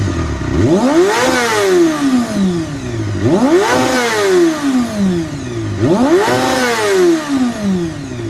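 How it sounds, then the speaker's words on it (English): Reworked Honda CBR250 inline-four motorcycle with straight-cut gears driving the camshaft, revved hard three times in a steady rhythm, each rev rising to a high-pitched screaming whine and falling back, loud and close. "the engine supposedly whines due to the straight cut gears"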